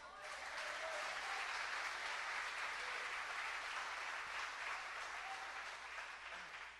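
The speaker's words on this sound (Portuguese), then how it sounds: "Aplauda o Senhor" Church congregation applauding the Lord during a sermon: sustained, dense clapping from a large group, steady and even throughout with a low hum underneath, fading slightly toward the end.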